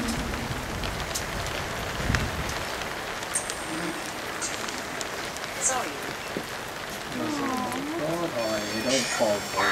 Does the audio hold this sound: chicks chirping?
no